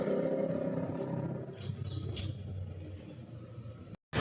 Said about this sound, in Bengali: কতটা শব্দ হচ্ছে একটা বাইকের।